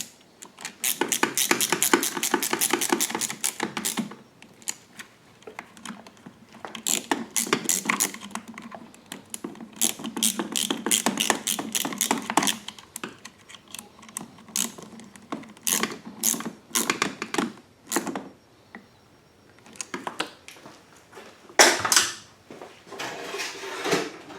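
A ratchet tightens 10 mm nuts on a DuroMax 11000 generator's extended run time fuel kit, close rapid clicking bursts repeated in uneven runs separated by short pauses.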